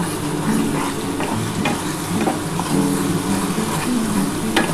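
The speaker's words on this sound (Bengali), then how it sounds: "এবার ভালো করে মশলাটা একটু কষিয়ে নিতে হবে" Spice paste with Kashmiri chili powder being stir-fried in a pan for rohu fish kalia, a close crackling sizzle broken by scraping strokes of a spatula, steady throughout and free of speech.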